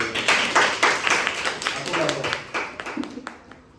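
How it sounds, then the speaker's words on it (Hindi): Students in a classroom clap briefly for their teacher after a times-table activity, a quick burst of close hand claps mixed with children's voices and talking. "पहले तो ताली बजाओ मेरे लिए"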